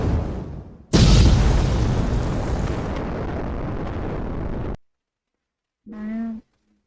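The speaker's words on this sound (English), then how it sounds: "Megumin, you can test her out. Explosion burst." A large explosion burst attack from the character Megumin in the Anime Dimensions video game: a loud broadband blast that rumbles and sustains for several seconds, then cuts off, followed by a short tonal effect.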